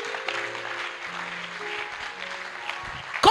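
A church congregation applauds and cheers for Jesus during a French-language sermon, a steady dense wash of clapping that runs the whole stretch and swells briefly at the end.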